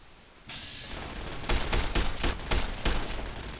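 Rapid gunfire from Fallout New Vegas in hardcore mode inside Helios, loud bursts of shots firing in a quick rhythm after a short rising tone, with no voices over it.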